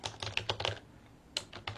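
Keys clatter on a computer keyboard as a quick burst of about five close, crisp presses, then a pause and a few more taps.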